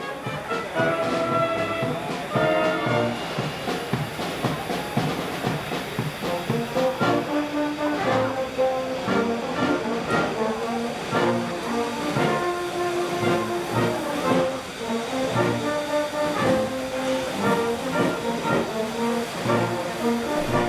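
Steam locomotive 3801 runs on the New South Wales Main Line, a loud, continuous mix of rumbling train noise and sustained tonal, whistle-like notes lasting throughout, with no speech.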